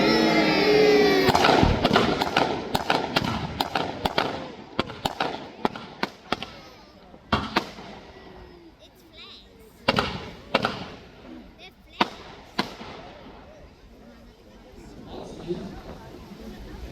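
Pyrotechnic bangs simulating a submarine's deck gun during a staged naval battle show in Peasholm Park, Scarborough, sharp booms scattered irregularly over crowd noise and a loudspeaker commentator, the early blasts dense and later ones sparser.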